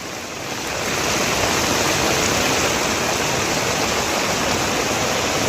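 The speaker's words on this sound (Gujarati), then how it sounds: "હિંમતનગર તાલુકાના પેડમાલા ગામે ડુંગર પરથી પાણી ગામમાં ઉતર્યા।" Floodwater from a hill pours through the streets of Pedmala village in Himmatnagar taluka, Sabarkantha, after heavy monsoon rain. A loud, unbroken rush of water swells in within the first second and then holds steady.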